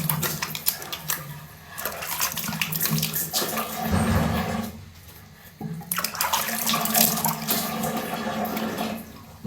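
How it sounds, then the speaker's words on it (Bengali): Running tap water splashes steadily as a face is rinsed and washed with face wash, with a brief pause midway before the splashing and trickling resume, close and continuous. "এই দেখো সুন্দর করে মুখটা ধুইয়া"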